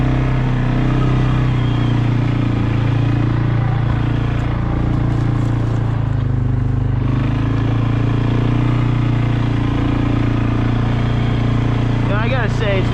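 A four-wheeler ATV engine drones loud and close while riding a narrow mountain trail in Maine in winter, steady throttle with a constant low hum, continuous throughout, with a voice speaking over it.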